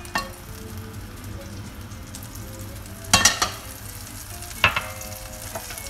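A little butter sizzles in a frying pan already used for cooking mushrooms, a steady close hiss broken by a few sharp clinks of a utensil against the pan.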